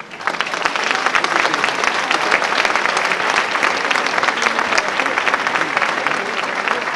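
An audience at a world choir festival for musicals applauds a choir, with steady, dense clapping that fills the whole stretch at an even, loud level.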